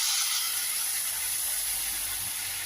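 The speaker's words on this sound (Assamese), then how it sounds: "এয়া এতিয়া এনেকৈ লৰাই পেলাই আৰু আস্তেকৈ গৰম পানী ঢালি দিম।" Hot water hits frying lentil dal in a pan and bursts into a loud, steady, hissing sizzle with rising steam that fills the whole moment.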